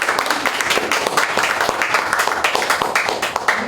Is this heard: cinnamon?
no